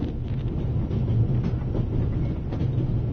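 Steady low rumble of a train rolling on rails, with faint rhythmic clatter running continuously and fairly loud throughout, no voices.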